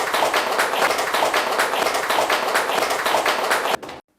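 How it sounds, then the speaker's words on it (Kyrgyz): Audience applause for Azamat in a classroom or training session, a steady dense burst of hand clapping that fills nearly four seconds before stopping abruptly. "Кол чабуулар, Азамат"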